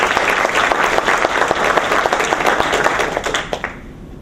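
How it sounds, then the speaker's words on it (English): An audience at a political meeting applauds the chair candidates, a loud close burst of many hands clapping steadily before tapering off and stopping abruptly near the end. "Give them all a round of applause."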